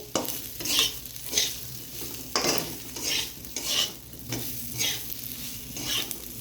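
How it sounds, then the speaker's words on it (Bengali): Potatoes sauté in a pan with cumin and coriander powder while a spatula scrapes and turns them in regular strokes over a constant sizzle, close up and without talk. "এবার একটু কষিয়ে নেব আলুটার সঙ্গে"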